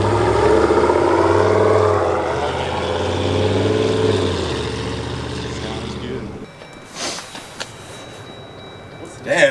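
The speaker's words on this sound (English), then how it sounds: "the viewers just want to hear the Corsa exhaust." A Jeep with a Corsa exhaust and larger tires gives a deep, droning engine rumble as it pulls away. The rumble fades over several seconds, then cuts off and leaves faint scattered noises.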